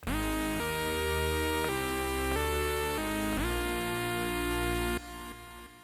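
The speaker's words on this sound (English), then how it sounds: "here's a really rich sounding synth lead that I designed earlier" A bright, layered synth lead made in Phase Plant plays a short phrase of sustained notes that glide and step between pitches, dense with overtones, then drops away at the end.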